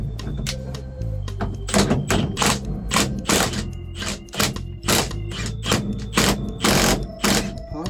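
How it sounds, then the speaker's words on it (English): An impact wrench drives the puller bolts to free the steering wheel from the steering shaft of a 1978 International Loadstar 4x4. It fires in a string of loud, close, rattling bursts separated by brief gaps. "Got our impact on here now."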